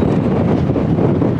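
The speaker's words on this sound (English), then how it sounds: "you can get an idea of how windy it is" Strong wind in the Badlands of South Dakota roars steadily and loudly against the microphone, a dense low rumbling buffet with no pauses and no voices.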